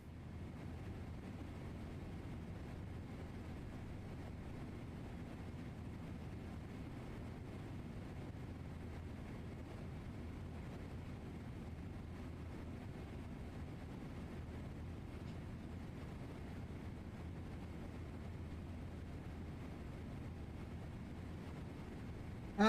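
A Thai Airways Boeing 777-200 landing on runway 32 left, heard as a steady, even low roar of engine and airflow noise that stays constant throughout.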